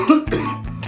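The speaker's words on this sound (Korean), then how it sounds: "또 이런 얘기 하려고 하니까 기침 나오네." A dry cough from a person recovering from an Omicron infection, two or three short harsh bursts close to the microphone indoors.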